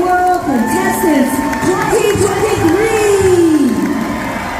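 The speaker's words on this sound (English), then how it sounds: "let's give a big round of applause to the Miss Indian World contestants" Crowd at the Miss Indian World pageant during the Gathering of Nations powwow 2023, loud cheering, whooping and shouting with applause filling the space, voices rising and falling over the noise.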